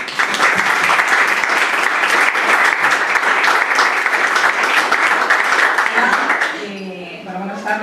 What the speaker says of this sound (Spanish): Les damos un fuerte aplauso y empezamos.